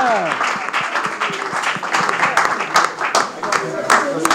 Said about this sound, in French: Est-ce qu'on va applaudir très fort pour Kaungi?